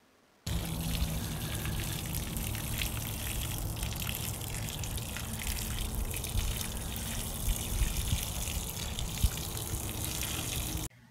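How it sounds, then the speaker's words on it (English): Water pours steadily onto newly planted lily bulbs in a fall garden bed, a continuous close splashing gush that runs unbroken for about ten seconds with no talking. "And now I'm just gonna water."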